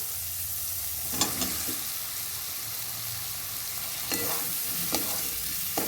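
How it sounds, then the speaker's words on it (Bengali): Potatoes being stirred into fried masala spiced with chilli, cumin and coriander powder for ghugni, a steady soft sizzle with a few scraping stirs of a spoon in the pan, close and moderately quiet. "এখন আলুগুলো দিয়ে দেব"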